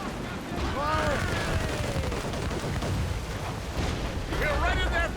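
Ship cannons fire in a naval battle in Assassin's Creed Rogue, a dense rolling rumble of blasts that swells twice, while crew voices shout over the din.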